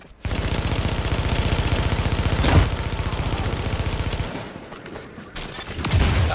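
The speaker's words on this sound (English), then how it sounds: "A fortification at Alpha is taking enemy fire." Sustained enemy machine-gun fire hits a fortification in a video game, a loud, steady rapid rattle lasting about four seconds. It then gives way to quieter, scattered sounds and a final thump.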